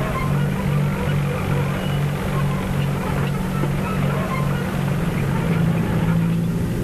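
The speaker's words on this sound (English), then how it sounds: "This Fiat 120 crawler is pulling a five-furrow Dowdeswell DP2." Fiat 120 crawler tractor pulling a five-furrow Dowdeswell DP2 plough in a field, giving a steady droning engine hum with a low, even rumble throughout, sustained without pause.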